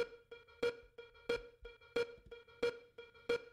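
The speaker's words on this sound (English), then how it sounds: "played with reverb, so it sounds like this" A short looped musical phrase in Ableton repeats with evenly spaced plucked hits, each tail smeared by long reverb with increased decay time, building a steady pulsing rhythm.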